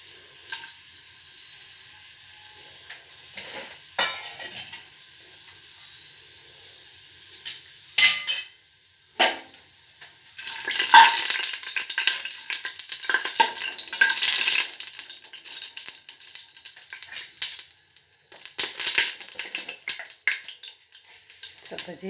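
Whole spices of cinnamon, bay leaf and black pepper frying in a pan for vegetable pulao: scattered metal clinks of stirring at first, then a bright, steady sizzle with scraping through the second half, with no talk.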